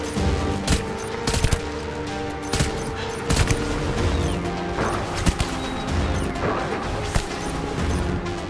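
Gunfire in the video game Death Stranding comes as repeated sharp bursts and crashes over a dense, loud game soundscape, with impacts scattered through the clip and no talking.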